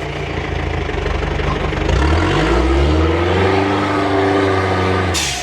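An off-road vehicle on rough terrain near Nagercoil, its engine droning steadily, then revving up with a rising, wavering pitch and holding a loud, close roar as it drives on.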